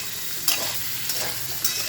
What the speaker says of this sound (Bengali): সবজিটাকে ভালো করে ভেজে নেব।